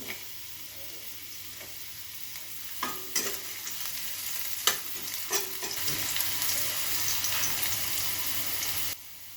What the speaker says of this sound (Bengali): তেলটা গরম হয়ে গেছে আমি আলুটা ভেজে নিয়ে প্রথমে